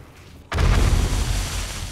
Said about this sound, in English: That is a much better explosion.